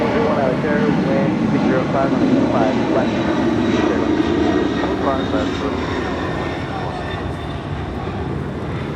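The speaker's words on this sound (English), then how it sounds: "That is Kaleta Air, Flight 368, departing to Honolulu on a 747-400 converted freighter." A Kaleta Air Boeing 747-400 converted freighter departs from LAX, its engines a loud sustained roar that slowly eases, with voices talking over it.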